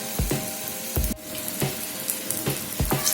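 Two large onions sauté in a pan for gongura chutney, a continuous close sizzle punctuated by regular spoon-stirring knocks about every half second, with no voices.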